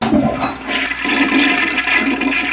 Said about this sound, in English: He likes to push the handle and watch the water go down.